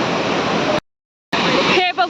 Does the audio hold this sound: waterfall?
yes